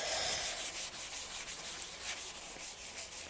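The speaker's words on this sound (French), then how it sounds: "on vient tremper un sopalin dans un récipient et on vient frotter donc sur tout le couteau pour boucher les trous" A wet paper towel rubs back and forth over the surface of a homemade knife, giving soft rhythmic scratchy swishes, close and steady, with no talking.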